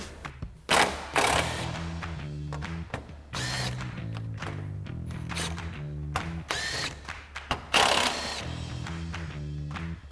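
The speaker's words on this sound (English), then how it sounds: "so we'll grab our 10mm socket on our impact and remove those now" An impact wrench with a 10mm socket spins out screws on a 2014–2021 Toyota Tundra upper grille, with several short loud bursts of rattling hammering separated by pauses and ratcheting handling sounds.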